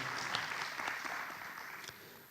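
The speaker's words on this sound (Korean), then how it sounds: "큰 박수 부탁드립니다." Audience applause at the opening ceremony of an academic conference, a moderate steady wash of clapping lasting a couple of seconds and tapering slightly at the end.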